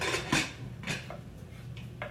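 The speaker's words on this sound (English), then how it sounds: "So I'm just gonna close up my pressure cooker." A pressure cooker lid being shut while making bone broth gives a few close metallic clanks and light clicks spread over a couple of seconds, with no voices.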